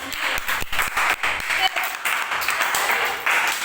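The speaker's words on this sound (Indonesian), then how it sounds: "kita berikan tepuk tangan kepada teman" A classroom of students claps steadily, a loud burst of applause with some sharp individual claps standing out.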